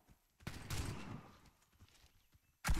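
A burst of rapid gunfire in the game Warface crackles briefly, then fades into quiet before another sharp shot hits at the end.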